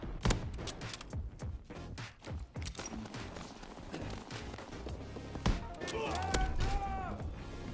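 Call of Duty WW2 gunfire during a mission to defend bankers, a rapid string of sharp, irregular shots and impacts spread across several seconds, close and loud, with a voice talking faintly beneath.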